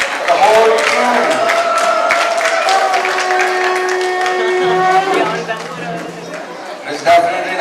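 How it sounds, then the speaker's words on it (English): An audience applauds the crew of a Mahabharata stage musical, steady clapping mixed with crowd chatter and sustained tonal voices or music running under it, with a louder burst near the end. "Big round of applause for the whole crew"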